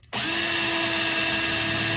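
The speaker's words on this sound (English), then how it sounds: "Then drill it." A power drill bores a hole in a homemade steel bracket for a winch safety switch, starting abruptly after a brief pause and running with a loud, steady whine for about two seconds, alone without talk.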